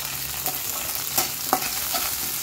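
Green chillies fry in hot oil, a steady close crackle and sizzle with a few sharp pops and stirring scrapes over it.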